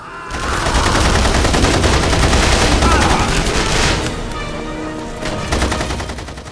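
Sustained automatic gunfire from a single-player video game, loud rapid bursts that dominate the first four seconds, then fade back before a few more shots near the end.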